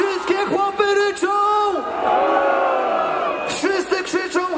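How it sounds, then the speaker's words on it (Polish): Men in a festival crowd at a concert during Dni Skawiny let out a loud, broad roar for about two seconds in the middle, framed by someone shouting to them over the PA before and after. "Wszystkie chłopy ryczą!"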